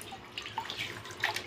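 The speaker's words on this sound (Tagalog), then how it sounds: "Lagyan ko muna ng tubig." Tap water runs into a laundry basin, a faint, brief trickle and splash with no voices.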